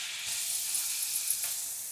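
Chopped vegetables for pepper veg fried rice frying in a pan give off a soft, continuous, fairly quiet sizzling hiss.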